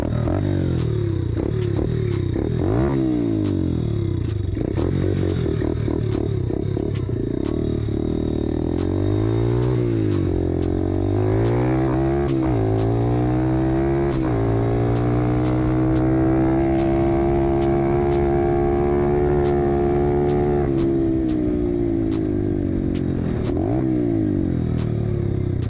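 A 125 cc RFZ motorcycle engine runs continuously during carburetor tuning, loud and close, its pitch rising and falling as the throttle is blipped and revved, with no talk over it.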